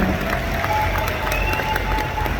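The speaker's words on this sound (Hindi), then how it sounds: "तो एक बार दोबारा से जोर तालियां सभी लीडरशिप के लिए जो यहाँ मौजूद है।" Loud, sustained applause from a large audience at an IMC business gathering, a dense crackle of clapping hands that fills the room steadily from start to finish with a faint murmur of crowd noise beneath.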